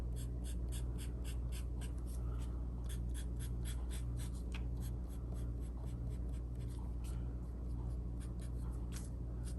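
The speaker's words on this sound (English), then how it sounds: "I'm just gonna draw some lines for the veins of the leaf." Pen or marker drawing short vein lines on a paper leaf, a steady series of close, distinct scratchy strokes over a constant low room hum, with no talking.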